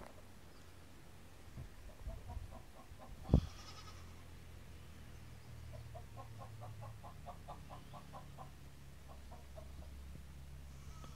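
Nigerian Dwarf goats bleat in short repeated bursts at moderate distance, scattered over a low steady background hum, with one sharp knock partway through.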